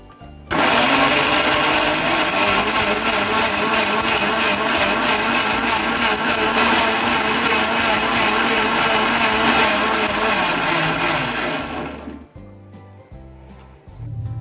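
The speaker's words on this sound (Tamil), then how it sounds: "ஃபுல் ஸ்பீட்ல வச்சு அரைச்சிரலாம்" A blender grinds muskmelon with ice cubes at full speed, making a loud, steady, close whir for about twelve seconds before it shuts off.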